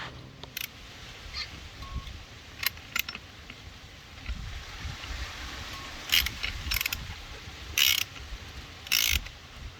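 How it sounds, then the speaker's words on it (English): Ratcheting clicks in short bursts from a spanner tightening the nut on an adjustable coilover shock held steady with an Allen key, while lowering a MK5 Volkswagen Golf GTI; faint, intermittent metallic ticks over a quiet garage background. "you're holding the shock in place with this Allen key and you're tightening the nut is what you're supposed to be doing"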